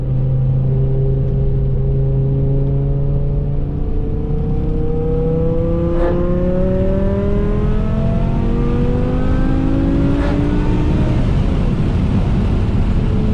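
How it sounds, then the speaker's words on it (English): A BMW M5 engine revs hard and continuously, its tone climbing through repeated rising sweeps as the car accelerates, loud and close with steady rumble underneath. "as you guys notice, the sound comes on big time."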